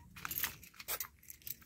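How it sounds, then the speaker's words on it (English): A bunch of keys jangles close by in several short rattling bursts while someone handles them beside an RV at a campsite, with a faint low hum in the background. "I need the keys"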